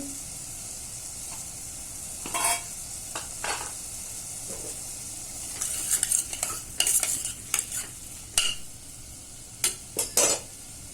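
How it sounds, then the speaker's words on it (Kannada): A spoon stirs masoor dal curry seasoned with sambar powder and turmeric in a pot, giving repeated scraping clinks over a soft steady sizzle, with the strokes bunching together toward the end. "ಚೆನ್ನಾಗಿ ಮಿಕ್ಸ್ ಮಾಡ್ಕೊಳ್ಳಿ."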